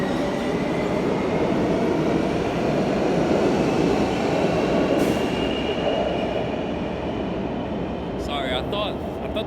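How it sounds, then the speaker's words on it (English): A subway train rumbles past loudly with a steady roar and rattling wheels, brief metallic squeals near the end and a voice briefly under the noise. "I thought the train was coming, right?"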